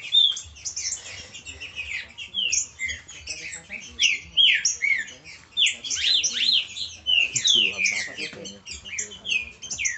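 Green-winged saltators (trinca-ferro) calling in a lively chorus, dense overlapping whistled phrases and chirps close by, steady throughout with a faint low hum underneath.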